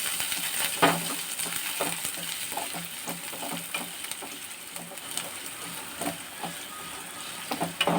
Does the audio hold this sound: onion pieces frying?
yes